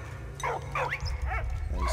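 A German army dog in the video game Soldats Inconnus gives about four short, quiet barks and yips in quick succession over a low background hum.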